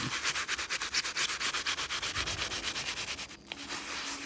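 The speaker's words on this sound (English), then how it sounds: "Just make sure it's staying wet, and you're rubbing that on." Wet wool being rubbed by hand onto a needle-felted patch, a fast rhythmic scrubbing of roughly twenty even strokes, close and clear with no talk.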